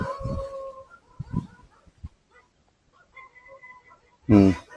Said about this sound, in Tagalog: May mga aso doon.